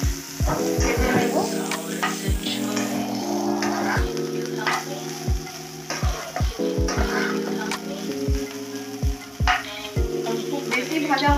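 Broccoli and chicken sauté in refined oil with a steady sizzle, while a utensil strikes and scrapes the pan in repeated sharp knocks as the food is stirred. A voice talks quietly underneath.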